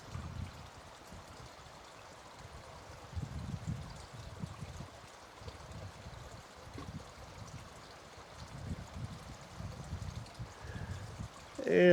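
Small stream of water trickles and gurgles steadily downhill toward a creek, with low rushing pulses and a soft continuous wash, fairly faint and heard alone.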